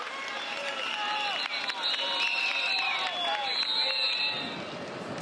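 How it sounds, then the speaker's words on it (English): Roadside crowd in a village cheering as a cycling breakaway passes through town, a steady wash of shouts, whistles and clapping lasting throughout, with a commentator talking over it. "it looks like they're all on the roadside to cheer this breakaway through town"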